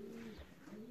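A racing pigeon, a 17-year-old male just back from a 561 km race, gives a single short, soft coo, faint and alone against quiet surroundings.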